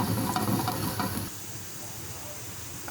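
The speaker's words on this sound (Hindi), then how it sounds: "हल्का सा गोल्डन करूँगी लहसुन को" Garlic fries in oil until lightly golden for lauki raita, giving a bright, loud sizzle at the start that drops to a softer steady hiss after about a second, close by.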